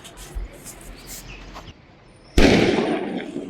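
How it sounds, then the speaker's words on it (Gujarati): Firecrackers burst outdoors beyond a balcony in the evening, a loud, sudden crackling outburst that sets off mid-clip after quieter distant pops and hum, then keeps fizzing and crackling steadily to the end. "અહીંયા ફટાકડા ફોડવાનું ચાલુ."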